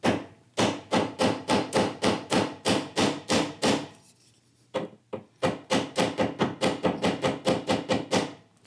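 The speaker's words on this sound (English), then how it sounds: "my little ball peen hammer." A small ball peen hammer tapping a protruding brad on a wooden threshold, a fast, even run of sharp close knocks, a brief pause with a couple of lone taps, then another rapid rhythmic burst.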